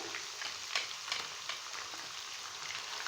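Steady sizzling and crackling of onions frying in a pan with ginger-garlic paste, with occasional stirring scrapes, close and continuous.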